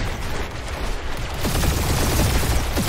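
Turret gunfire in the Guardians of the Galaxy video game, loud and continuous, with a dense rattling burst of shots building from about the halfway point and keeping on through the end.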